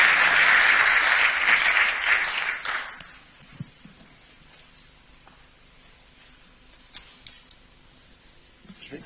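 A burst of audience applause at an opening ceremony, loud and dense for about three seconds before dying away into a quiet room with a few scattered, isolated claps.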